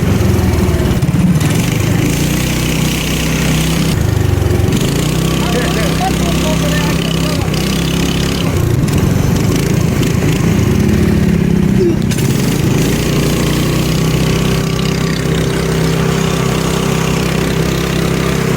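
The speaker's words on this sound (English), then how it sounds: "take his go-kart out for its first real test drive with the Predator 420 engine in it." A small gasoline engine, a Predator 420 in a go-kart on a dusty track, drones steadily and loudly throughout, its pitch rising and falling slightly, with a voice heard faintly over it.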